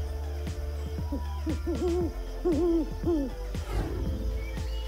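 A series of soft, low owl hoots in quick repeated phrases, fairly close, with a steady low hum underneath and no talking.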